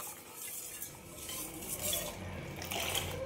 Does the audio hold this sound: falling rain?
no